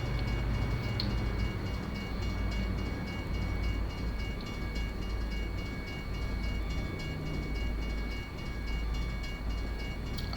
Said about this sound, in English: good thing trains aren't that long here